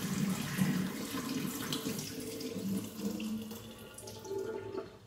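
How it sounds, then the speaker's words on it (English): A kettle fills with cold water from a running tap, the stream drumming steadily into it before fading at the end, close and without speech. "And then you fill it up with cold water because hot water is not good for tea."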